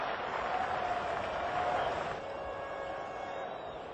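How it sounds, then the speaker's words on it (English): A distant, steady roar of a cricket crowd cheering a wicket by leg-spinner Stuart MacGill at a Sydney Test between Australia and the West Indies, a broad wash of applause that eases slightly partway through. "a cheer for Stuart McGill"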